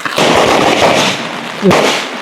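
Firecrackers burst in a steady crackling barrage during a Thai Pongal festival, loud and continuous, with a sharper pop near the end.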